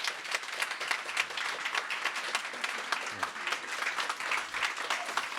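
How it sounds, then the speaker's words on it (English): An audience at a debate on ESG and climate action applauds to vote for the motion, producing a steady, moderately loud wash of clapping that continues evenly throughout. "So now is your time to really give your vote for the motion. Applause,"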